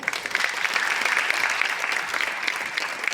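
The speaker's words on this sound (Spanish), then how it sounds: "Fuerte aplauso." A theatre crowd at Teatro Calima in Colombia breaks into loud, dense applause, a steady wash of many hands clapping together throughout.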